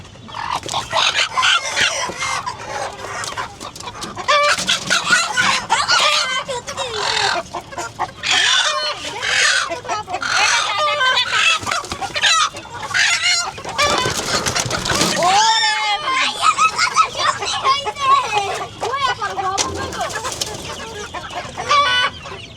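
A broody hen clucking close by near her eggs, steady repeated clucks and fowl calls filling the whole stretch, with occasional speech mixed in.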